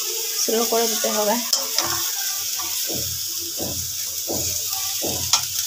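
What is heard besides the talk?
spinach frying in a pan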